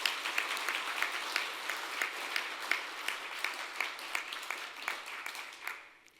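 Applause from the audience at an award ceremony, a quiet, even patter of many hands with sharper individual claps, fading out at the end.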